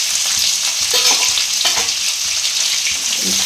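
Chopped onions fry and sizzle steadily in hot oil for a chicken curry with potatoes, with occasional stirring clatter over a constant loud hiss.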